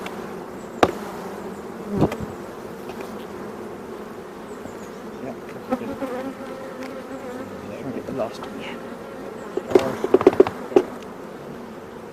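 Honey bees in a WBC hive buzz as a frame is shaken during an inspection, a steady dense drone under brief voices, with a few sharp knocks and a cluster of clatter near the end.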